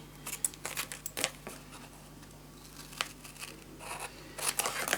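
Scissors snip through scrapbooking paper, cutting diagonally toward a fold line: a quiet close series of short crisp cuts and crinkles, with brief pauses between them.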